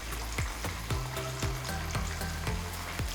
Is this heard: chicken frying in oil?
yes